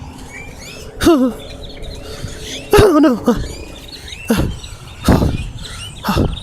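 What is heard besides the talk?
birds calling near a station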